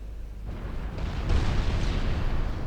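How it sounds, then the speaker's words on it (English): Naval guns fire in Ultimate Admiral Dreadnought, a deep, rumbling boom of recoil that swells and layers into sustained low thunder, with no voices. "That's the recoil."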